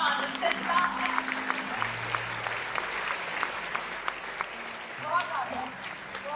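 Audience applause at a Hindi kavi sammelan poetry recital where poet Kavita Tiwari performs, with sustained clapping throughout, strong and steady from beginning to end, and faint voices underneath.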